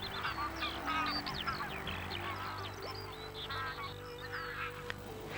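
Geese flighting off the Orkney lochs in winter to graze on grass, a dense chorus of overlapping honks and calls, fairly near and continuous throughout with a low rumble beneath.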